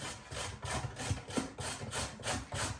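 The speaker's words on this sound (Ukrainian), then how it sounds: "моркву я буду натирати просто на крупній тертушці" Carrot grated on a coarse kitchen grater, close, rhythmic rasping strokes, about nine quick back-and-forth scrapes in steady succession.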